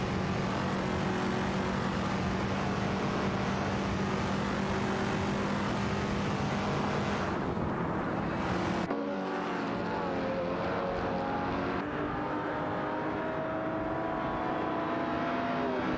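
Race cars, among them an Alfa Romeo Giulia GC and a 1969 Dodge Charger Daytona, roar through an AI racing video game, their engines droning and revving loudly and continuously, with gear-change sweeps partway through.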